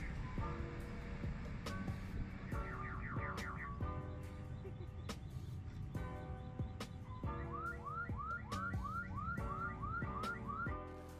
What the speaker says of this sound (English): an A340 sets off car alarms in St.